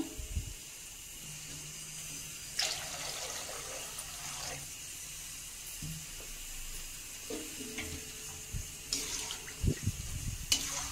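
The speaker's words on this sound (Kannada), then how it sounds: "ಇನ್ನು ಸ್ವಲ್ಪ ನೀರು ಹಾಕ್ತೀನಿ ಇದಕ್ಕೆ" Water poured into a pot of homemade mango, ginger and raw pepper rasam in a home kitchen, a soft steady pouring trickle with a few clinks and stirring knocks, close and moderately quiet with a low sizzle underneath.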